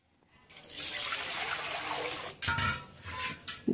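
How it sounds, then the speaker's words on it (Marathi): Water poured onto sorghum bran in a container for rewashing while making sorghum papad, a close splashing gush that runs steadily before breaking into shorter splashes, with no talk. "या चोथ्यामध्ये पुन्हा पाणी टाकायचं आहे"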